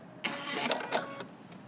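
A sewing machine runs a basting stitch along a seam on a Simplicity 8749 jacket, giving a short, steady mechanical whir with a few sharper clicks near the end.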